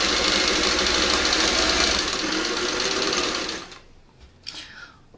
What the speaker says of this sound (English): then we're going to sew it all together and it'll look lovely